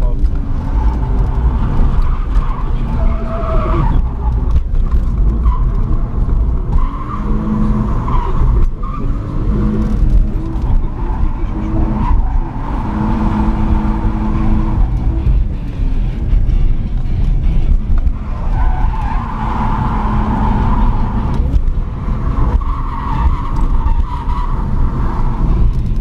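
A BMW E46 323 drifts in a tandem train with other cars, its engine roaring and its tires squealing continuously up close. Voices are mixed in underneath.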